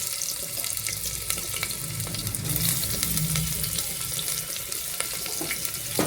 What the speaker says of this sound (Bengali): পেঁয়াজটা হালকা করে ভাজা হতে থাক।